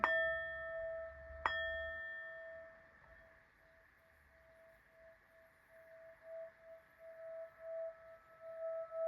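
A bell is struck twice in quick succession, and its clear tone rings on and slowly fades over a quiet background.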